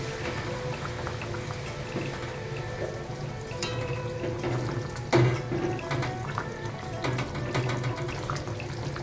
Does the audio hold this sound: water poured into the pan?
yes